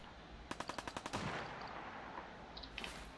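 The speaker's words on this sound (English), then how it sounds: "Where's the gunshots coming from?" Rapid burst of about seven gunshots from a weapon in Fallout 4, sharp and loud in quick succession, followed by quieter scattered game sounds and a couple of faint distant shots.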